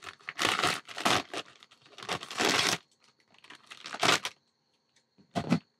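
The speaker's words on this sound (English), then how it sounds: "I'm simply going to cut off the top of the bag." Plastic mushroom grow bag holding fruiting reishi being cut open across the top: several loud bursts of crinkling, tearing plastic separated by short pauses, close up with no voices.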